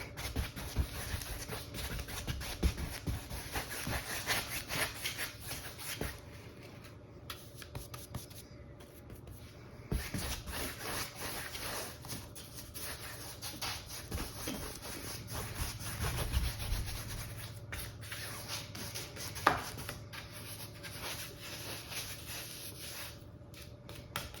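Paintbrush bristles scrub across canvas in varied directions while painting purple mountain flowers and a birdhouse, a faint, steady rubbing and scratching texture with soft irregular strokes and no talk.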